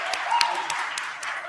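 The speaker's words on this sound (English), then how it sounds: "Can we get a big round of applause for another doctor on our side?" Conference audience applauding a speaker, a brief patter of scattered claps with a voice talking over it, moderately faint.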